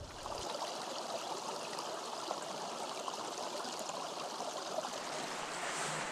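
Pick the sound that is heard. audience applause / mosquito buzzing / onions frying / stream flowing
stream flowing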